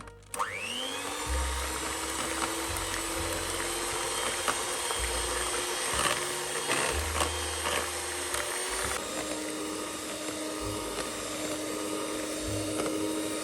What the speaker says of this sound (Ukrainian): в чаші блендера, щоб гарно пробити, змішати всі інгредієнти. І пробиваємо до потрібної нам консистенції, постійно збільшуючи швидкість